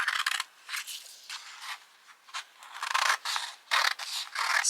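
Scissors snip through a paper panel and trim it down to size for a card, a series of crisp close cutting strokes coming in irregular bursts with short pauses between them.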